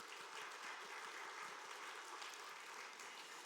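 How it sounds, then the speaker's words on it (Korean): Congregation applause at a church Christmas service, dense steady clapping from many hands filling the room, sustained evenly throughout without pause. "두 분과 우리 모든 분들에게 격려의 박수 한번 하겠습니다"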